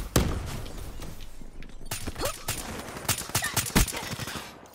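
Rapid gunfire from the Dracon in Call of Duty: Black Ops III, close sharp shots in irregular bursts with short gaps, fairly loud over quiet game ambience.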